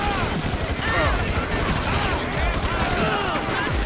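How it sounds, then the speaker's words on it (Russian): Dense, continuous assault rifle fire in GTA 5 during a police-patrol gang shootout, loud and steady throughout with overlapping bursts and clatter, and voices mixed in underneath. "Так, у нас есть автомат. Можно использовать автомат."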